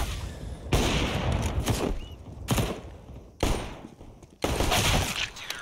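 Bursts of MP9 submachine gun fire in a Counter-Strike: Global Offensive pro match, four loud rapid-fire volleys separated by short pauses, with a fainter crackle of other game sounds between them.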